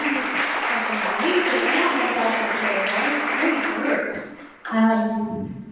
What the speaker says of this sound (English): let's give these exhibitors a round of applause again